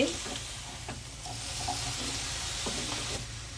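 Chicken, broccoli and carrot pieces stir-fry in a pan with a steady, fairly quiet sizzle, broken by a few soft scraping stirs of a spatula.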